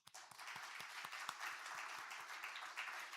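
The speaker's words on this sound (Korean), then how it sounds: "이분들 왜 박수 한번 주세요." A church congregation applauds volunteers during a Sunday afternoon service, with clear, evenly paced claps rising to a dense, fairly quiet round that continues steadily without speech.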